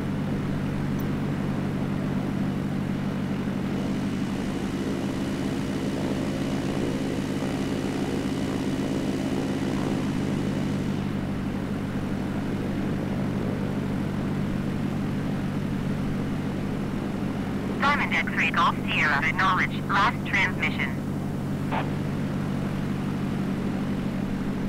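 A single-engine Diamond propeller aircraft taxis at night to general aviation parking at Fullerton Airport in LA in Xbox Flight Simulator, with a steady engine drone and hum throughout and a brief burst of crackling clicks near the end.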